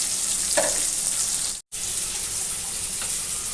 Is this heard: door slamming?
no